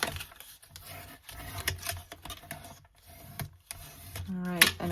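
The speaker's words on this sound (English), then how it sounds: "I am gonna burnish these a bit" Paper signatures for a folio journal are burnished by hand, giving a series of short, close scraping and rubbing strokes with brief pauses between them, and a voice speaks quietly at times.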